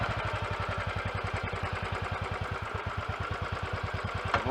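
A Royal Enfield 500 Classic UCE single-cylinder motorcycle idles steadily up close, its low, even thump repeating at a regular rhythm with no talking over it, after work done to quieten the engine.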